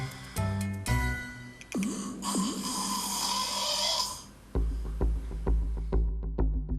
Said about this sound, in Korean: 잠들자마자 시작된 코골이